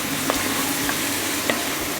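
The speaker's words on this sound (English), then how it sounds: "Give it a stir." Leeks and fennel seed are stirred in a soup pot over a continuous close sizzle, with a few soft scrapes of the spoon breaking through at a slow, even pace.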